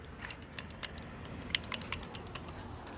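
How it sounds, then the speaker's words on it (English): A clicky pedestrian crosswalk button at a Milwaukee Avenue street crossing is pressed repeatedly, giving a run of sharp, close clicks over steady traffic and street hum. "So this one has a clicky button here"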